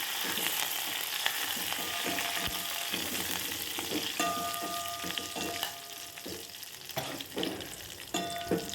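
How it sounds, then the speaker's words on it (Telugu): Tomato rasam poured into a hot curry leaf tempering in a pan, setting off a loud, continuous sizzle with crackling pops and scraping clinks, close by and without talk. "స్టవ్ ఆఫ్ చేసుకొని మనం ముందుగా పక్కన పెట్టుకున్న రసాన్ని ఈ తాలింపులో వేసుకోవాలి"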